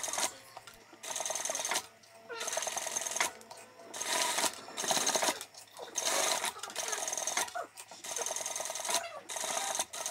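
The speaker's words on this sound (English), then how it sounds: "it's really easy to sew exactly on that seam allowance" Sewing machine stitching a seam on a shoe fabric panel, running in several quick bursts separated by short pauses, close and moderately quiet.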